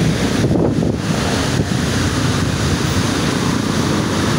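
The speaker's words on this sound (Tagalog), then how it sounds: "Lakas na naman ang hangin." Strong typhoon wind roars steadily on a Manila street along Taft Avenue, a dense continuous gusting rush with brief dips, close and loud with no talk over it.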